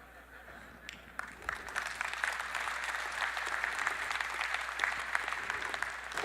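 Scattered claps from a keynote crowd at a tech conference quickly swell into full, sustained applause that keeps building in intensity toward the end.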